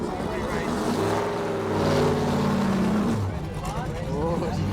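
A loud race car engine roars on a track in a video game, rising and falling as it passes close by, while voices talk over it.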